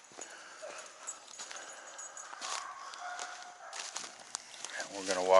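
Horse hooves clip-clopping on a rural property, faint and some distance off, a few uneven steps beneath other outdoor sounds as people talk nearby.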